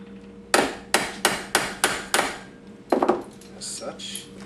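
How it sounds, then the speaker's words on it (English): Nails and rivets being driven into a wooden shield with a hammer: six sharp, evenly spaced blows ring out close and loud, followed by a few lighter taps. "when you finally do start hammering it to really secure everything"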